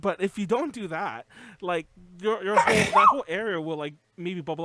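A sneeze bursts out among chatty podcast talk between two hosts, brief and sharp in the middle of continuous speech.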